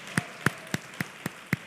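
A church congregation claps in time, giving six sharp, evenly spaced claps at a brisk pace in a quiet room, with no speech.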